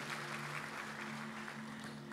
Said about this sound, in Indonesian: Kasih tepuk tangan lagi buat Tuhan.